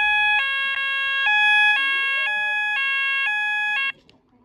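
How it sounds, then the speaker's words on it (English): A loud Apollo AlarmSense fire alarm sounder wails in steady, repeating two-tone bursts, switching pitch every half second or so, then cuts off abruptly near the end. "So today we have a Solex beacon and an Apollo alarm sense sounder."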